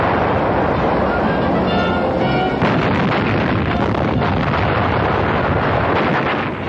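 A dense, continuous roar of explosions and rumbling blasts fills the whole stretch, loud and distorted like a barrage of bombs going off, from a 1942 wartime air attack newsreel.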